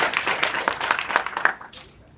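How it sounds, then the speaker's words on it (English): A conference audience applauds three speakers at the close of a panel on laws for wearable medical technology, a moderate burst of scattered hand claps that tapers off within about two seconds. "give them all one last round of applause"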